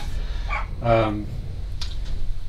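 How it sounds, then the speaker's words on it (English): A dog gives a couple of short barks out in a garden at a moderate distance, over a low steady rumble of background noise. "she's barking out in the garden, chasing the cars"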